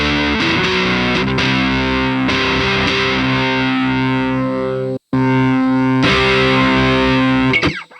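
Electric guitar played through a fuzz pedal placed ahead of a compressor on an HX Stomp, giving a thick, saturated sustained tone with strummed chords, a brief cutout near the middle, then more chords ringing out loud and alone.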